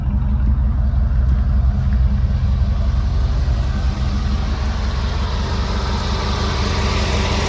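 A 1950 Chevy engine idles close by in a steady, even low rumble that holds without a break, with no voices over it.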